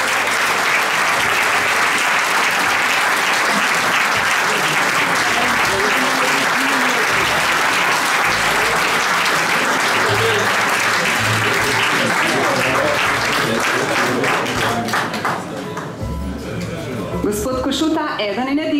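A large crowd at a chamber of crafts and business anniversary ceremony applauds steadily and loudly for most of the time, the clapping thinning out toward the end as a voice begins speaking.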